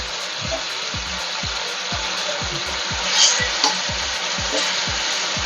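Ginger garlic paste sizzling in a hot pan for homemade kadai chicken, a steady dense frying hiss with a regular scraping stir of a spatula about twice a second, close and alone without talk.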